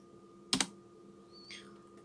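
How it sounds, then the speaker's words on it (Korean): Two quick keystrokes on a computer keyboard, close and crisp, with a faint click a second later against a quiet room hum. "홈 버튼을 눌러서 스페이스바를 누르게 되면"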